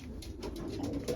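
Racing pigeons back at their home loft give soft, low cooing calls in a brief murmuring run, close by and fairly quiet, with faint fluttery rustles above.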